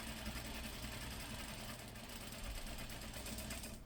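A sewing machine runs steadily while stitching a patch pocket a sixteenth of an inch from the edge, a continuous mechanical whir with no pauses, close and moderately quiet.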